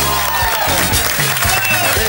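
Audience clapping and cheering bursts out loudly in a close, brief wave at a Spanish-language show, with a voice calling out over it.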